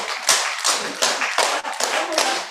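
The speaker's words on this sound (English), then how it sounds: "Now we clap. Just clap. Keep clapping." A group clapping hands together in a loose, uneven rhythm of repeated bursts, close and loud, with brief dips between rounds and no talk over it.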